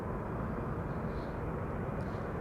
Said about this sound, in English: KLM flight 668 arriving from Austin, Texas. 7879 Dreamliner.